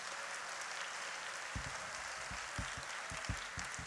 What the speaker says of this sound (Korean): 돌아서서 교우들에게 인사하실 때에 큰 박수로 격려해 주시기 바랍니다.